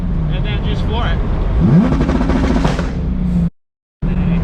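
A Corvette C7 Z06 engine revs hard at full throttle and climbs in pitch as it accelerates, loud and close, then cuts out abruptly for a moment before resuming.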